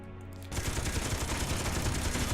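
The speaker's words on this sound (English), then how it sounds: "So we'll take our Gatling gun here." A Gatling gun fires in the video game Space Engineers, a loud, continuous rapid-fire burst that starts abruptly after a brief quieter moment and keeps roaring to the end.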